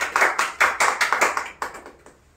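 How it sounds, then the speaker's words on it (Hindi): Audience at a Republic Day institutional function clapping to welcome the chief guest, a short burst of about a dozen sharp, uneven claps that thin out and fade within a couple of seconds. "जो हम लोग इनको तालियों से स्वागत किया जाए हमारे मुख्य अतिथि का"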